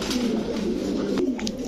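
Pigeons coo at a crowded pigeon market, their low throaty calls repeating close by over a constant murmur of birds and background bustle.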